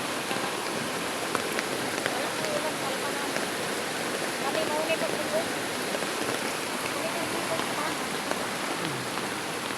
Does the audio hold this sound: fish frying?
no